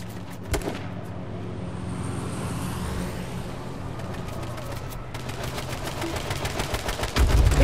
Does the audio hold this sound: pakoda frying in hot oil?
no